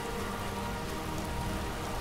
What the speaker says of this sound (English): Stop raining! It's too high up for rain!